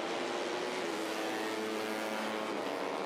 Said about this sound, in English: Oh, no, it is a pit bike, yeah.